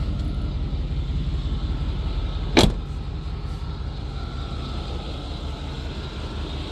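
A 1994 Chevrolet C1500 Silverado pickup with 113,000 miles idles with a steady, even rumble, near and continuous, broken once by a brief sharp knock or clunk partway through.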